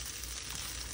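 Garlic frying in hot ghee left over from browning meat, a steady close, broadband sizzle that holds evenly for a moment with no voices.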